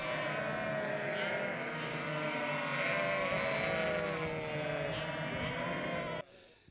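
A flock of sheep and lambs in spring pasture, lambs seeking their mothers, bleating continuously in a dense, overlapping chorus that stays loud for several seconds before cutting off.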